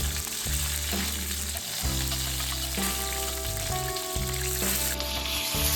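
A ribeye steak frying in its own fat with garlic basting gives a steady, close sizzle that runs continuously beneath louder background music.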